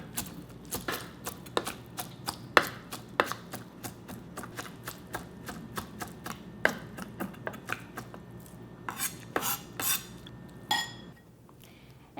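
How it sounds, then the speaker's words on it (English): A knife chopping noodles into small pieces on a cutting board, a rapid dense run of sharp taps with uneven spacing and occasional louder knocks, close and steady, then thinning out near the end. "I'm going to chop them into really small pieces."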